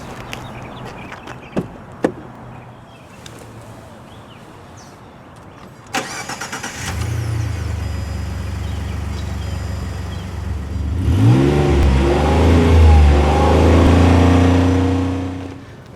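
A 2015 Ford Expedition XLT with a 3.5 liter V6 twin turbo starts after a few faint clicks, settles into a steady idle, then revs up in several rising swells before easing back down.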